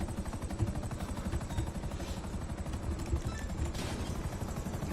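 A helicopter passes over in GTA 5 Online, its rotor giving a steady, rapid chopping thrum that stays loud and even throughout.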